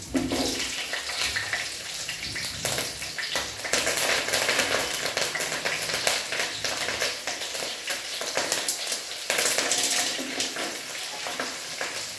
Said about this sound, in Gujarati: લીમડાના પત્તા મરચાં અને સિંગદાણા અને થોડા તેલમાં સાંતળી લઈશું